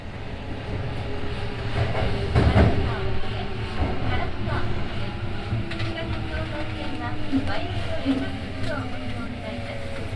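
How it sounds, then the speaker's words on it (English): A Keihan train runs toward Karashima Station with a continuous rumble and faint rail clatter, with voices in the background. "the train is heading towards Karashima Station"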